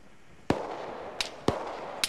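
Gunfire in the military shooter ArmA 3 during a combat operation: two sharp, loud reports about a second apart, each followed by a fainter distant crack, with no talking.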